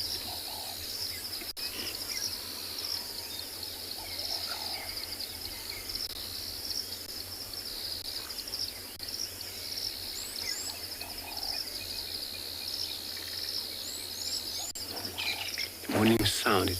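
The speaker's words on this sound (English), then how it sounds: "The morning sound is deadly quiet, only birds that you can hear." Birds chirp and call faintly in the distance over a steady insect drone on a morning safari in South Africa, with a quiet outdoor backdrop and no talking.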